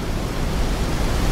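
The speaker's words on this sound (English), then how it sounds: "It's a waterfall!" A roaring waterfall, a dense, steady rush of broadband water noise that fills the short moment, loud and continuous with no voices over it.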